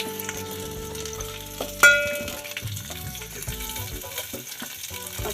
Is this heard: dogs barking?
no